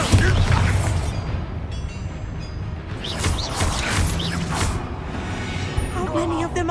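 A Bombarda spell explosion in the video game Hogwarts Legacy erupts with a deep rumbling boom, followed by crashing debris and mechanical clatter, with bursts of bright crackle and some speech layered in.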